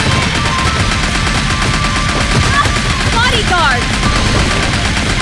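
Dense, steady gunfire in the Sega Golden Gun arcade shooting game, close and loud over a noisy game soundtrack, while a character voice shouts briefly.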